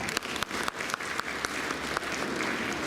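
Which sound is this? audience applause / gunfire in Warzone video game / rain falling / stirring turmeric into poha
audience applause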